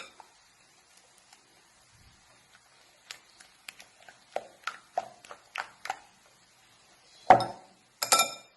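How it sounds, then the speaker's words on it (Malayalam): A mixture for fish roll beaten in a bowl, light scattered clinks of utensil against bowl building into a quicker series of taps, with a few sharper knocks near the end, fairly close and alone. "നല്ല രീതിയിൽ അടിച്ചെടുക്കുക"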